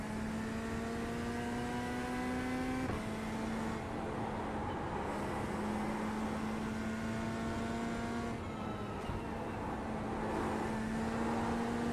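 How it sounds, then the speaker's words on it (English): Racing car engine in a GT3 sim-racing game at Watkins Glen, a steady tonal drone with clear harmonics that shifts pitch at gear changes around three and nine seconds, alone and continuous. "I hear the car."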